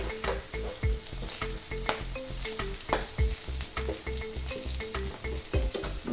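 Thick-sliced new onions frying in a pan, a loud continuous sizzle with frequent stirring clinks and scrapes of a spatula, close up and without talk.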